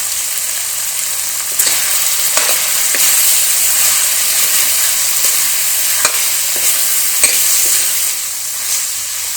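Mutton liver stirred and fried in a karahi with turmeric, red chili and garam masala, a steady loud sizzle with scraping spoon strokes every second or so throughout.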